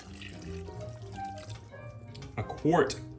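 A full quart of water is poured into a pot of thin homemade chili, a splashing liquid gush that swells near the end of the moment after quieter kitchen background noise.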